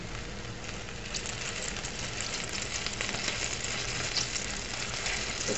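Pork chops sizzling in a pan, a dense, even frying hiss with fine crackles, steady and close for the whole stretch with no voices.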